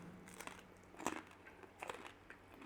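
Crunchy bites of a German pork knuckle with seafood sauce, a few faint close crackling crunches spaced irregularly over quiet room sound.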